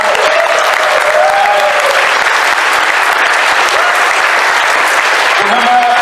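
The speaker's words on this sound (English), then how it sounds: "Give Mark a round of applause" A loud, sustained round of applause from a crowd at a theatre event, dense and steady with cheers and voices woven through it.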